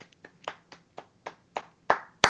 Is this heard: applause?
yes